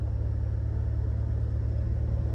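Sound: rocket-nose van being driven

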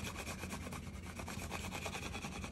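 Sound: scraper smoothing vinyl decal onto soap

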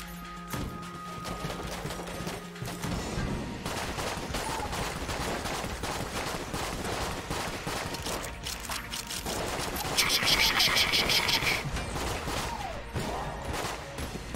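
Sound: repeated gun reload sound effect in Enter the Gungeon video game

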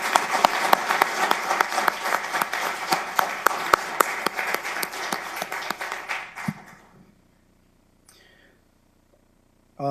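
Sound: applause

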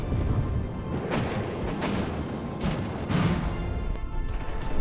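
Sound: explosion in video game From the Depths

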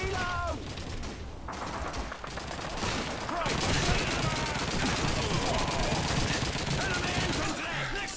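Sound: gunfire in the video game Call of Duty 2

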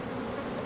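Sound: honey bee buzzing near a hive

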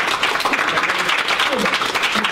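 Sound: audience applause

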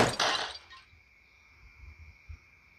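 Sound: firecracker blowing up a flower pot

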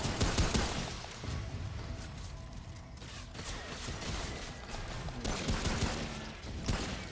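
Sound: gunfire in the video game Remnant: From the Ashes

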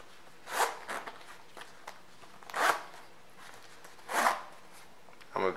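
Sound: zipping up the side zipper of a Rick Owens sneaker

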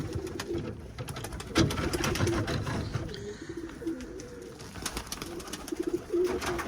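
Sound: pigeon squabs cooing

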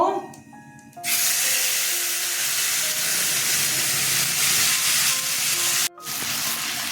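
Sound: whole spices sizzling in hot oil while tempering

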